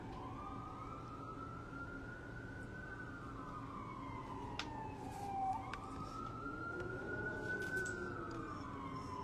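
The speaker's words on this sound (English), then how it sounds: "It's an ambulance." An ambulance siren wails in slow rising and falling sweeps, fairly distant, over a low traffic rumble.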